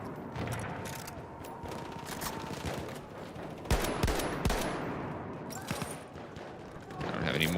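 Heavy, continuous gunfire in the Battlefield 1 video game, with dense rapid shots and a few sharper close bangs mixed with distant volleys, loud throughout and under occasional speech.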